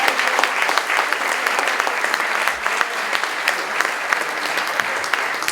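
Dense, loud applause from a crowd filling a theatre at its reopening ceremony, sustained clapping throughout with no pause.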